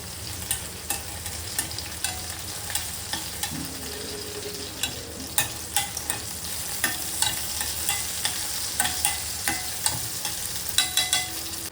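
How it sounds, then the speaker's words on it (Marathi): Green chillies and garlic roast in a hot pan with a little cumin, a steady oil sizzle under repeated sharp scrapes and taps of a spatula stirring at an even, unhurried rhythm, close and with no talk. "आता हे मिरची आणि लसूण प्रॉपर रोस्ट झालेले आहे."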